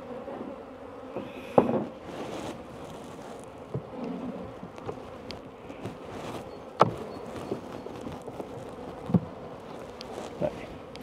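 Honeybees buzz inside a hive during an inspection of a colony with very few bees left, a steady low hum broken by sharp knocks and clicks of handling nearby.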